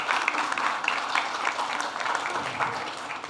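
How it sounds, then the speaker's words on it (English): A product-launch audience claps for actress Yami Gautam, lively close applause with distinct individual claps pulsing through the crowd for a few seconds. "Can we have a huge round of applause for her?"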